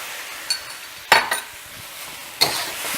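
A spatula stirs shrimp and vegetables in spicy brown sauce in a pan, with soft sizzling under a few distinct scraping clinks of utensil against metal, close and fairly quiet.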